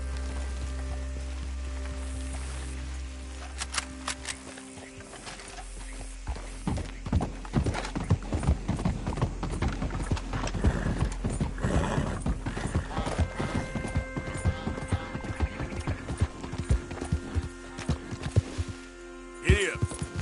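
A horse ridden in Red Dead Redemption 2 breaks into steady clip-clopping hoofbeats after a short lull and keeps up a fairly loud rhythm over ambient game sound, with a little speech.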